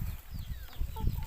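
A rooster kept on a farm with egg-laying ducks gives short, close clucks and squawks over low background rumble, brief and fairly faint.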